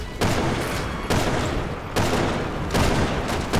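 Sustained automatic gunfire in Resident Evil 6, loud and close, arriving in four long bursts separated by brief drops, with no talking over it.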